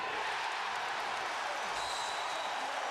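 Basketball arena crowd at a college game between LSU and Ohio State, cheering and roaring in a broad, steady wash of noise, with a commentator's voice faintly underneath.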